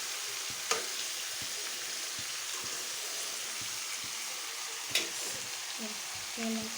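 Fish curry cooking over a high flame, a steady broadband sizzle with a couple of sharp spoon clinks and faint stirring scrapes near the end, with no voices.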